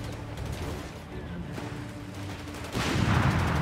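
Light machine gun fire in Company of Heroes 3, a World War II strategy battle in Italy: dense overlapping shots mixed with distant battlefield rumble, swelling louder near the end, with no talk over it.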